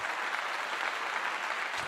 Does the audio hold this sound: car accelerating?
no